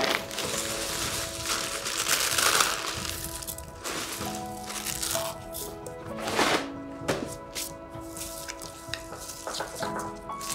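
Crunchy filling stirred into melted ruby and milk chocolate for an Easter egg, giving soft scraping, crackling and crunching with occasional sharper clicks of a utensil against the bowl, fairly quiet and close.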